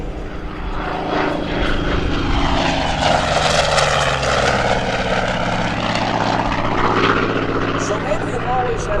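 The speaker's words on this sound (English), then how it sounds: "listen to the sound of that engine." An A-1E Skyraider propeller plane makes a low airshow pass at Quonset, Rhode Island, in 2012, its piston engine roar swelling and shifting as it crosses from left to right, with commentary running over it.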